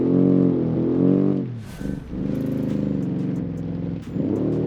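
A 1977 front-wheel-drive car with a ladder chassis accelerates hard in first gear, its engine revving loudly and rising in pitch, dropping briefly at a shift-like pause, then climbing again.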